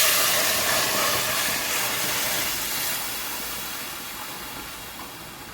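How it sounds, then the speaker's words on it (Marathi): Drumstick (moringa) soup poured into a cooking pot makes a steady, loud hissing rush that fades slightly toward the end, with no one talking. "आता आपण हे सूप घालत आहोत याच्यात"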